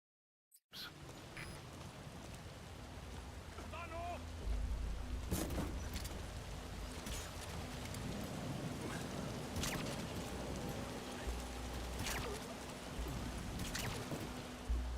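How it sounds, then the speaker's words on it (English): Steady rainfall in the video game Metal Gear Solid 5, a continuous broad wash of rain with occasional louder splashes and knocks, holding at moderate level throughout. "Sound of rainfall should help to mask your footsteps."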